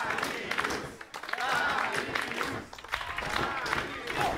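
Wrestling arena crowd roaring and applauding steadily throughout, a dense wash of cheers and claps with a commentator's voice running over the top.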